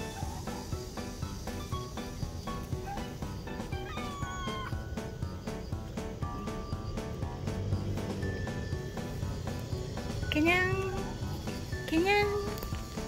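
A young indoor cat meows several times, with rising and falling cries standing out over steady household noise and a voice talking nearby.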